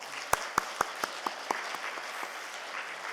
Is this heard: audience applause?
yes